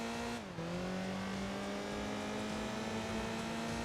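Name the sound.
Mazda Miata race car engine revving in Enthusia Professional Racing video game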